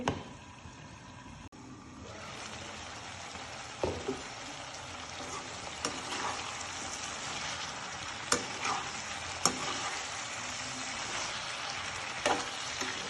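Cumin potatoes with peas cook in a covered pan, giving a continuous close sizzle and frying hiss with occasional sharp knocks and clicks, and no speech.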